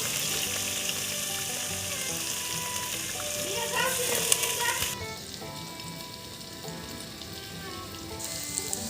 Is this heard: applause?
no